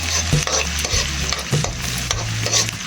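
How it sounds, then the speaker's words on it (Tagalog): Onions stirred in a hot frying pan for chicken ginataan, a steady loud sizzle with repeated scraping strokes of the spoon, close up and with no talking. "Haluin lang natin mga idol ang ating sibuyas."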